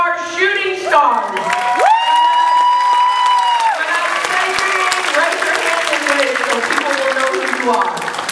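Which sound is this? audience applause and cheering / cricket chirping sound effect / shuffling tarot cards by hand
audience applause and cheering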